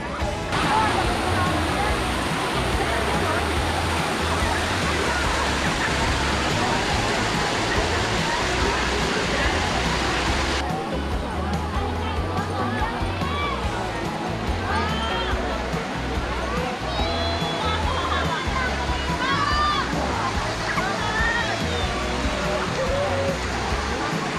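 Bolinao Falls in Pangasinan, a constant, loud roar of falling water filling the whole stretch, with voices of people at the pools faintly mixed in.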